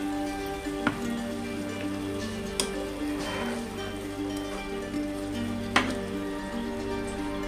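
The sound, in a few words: spice masala sizzling in pan after water added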